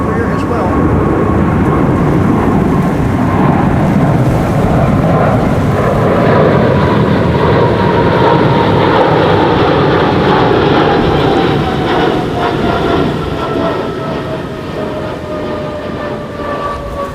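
An Emirates SkyCargo freighter going around at Amsterdam Schiphol in a stormy, gusty crosswind gives a loud, sustained jet roar. Whining engine tones slowly fall in pitch as the aircraft passes, with wind noise mixed in.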